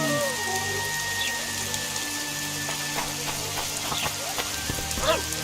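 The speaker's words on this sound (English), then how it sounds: "I knew it would rain." Rain falling steadily in The Witcher 2 video game, a soft, even patter of drops on surfaces with a few faint scattered splashes and a low background hum.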